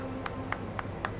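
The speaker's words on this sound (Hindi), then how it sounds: "जिसे देखकर बच्चे ताली बजाते हैं।" Children clap in a home after a heater is repaired and switched back on: four sharp, evenly spaced claps, fairly faint over a steady low background hum.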